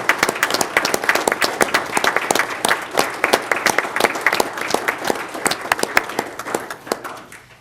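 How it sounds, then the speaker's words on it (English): Applause at a city council meeting for family members and friends in attendance, a dense, steady round of many hands clapping that holds for several seconds with no speech over it. "I would like to offer a final round of applause for all of the family members and friends that are here that are supporting you."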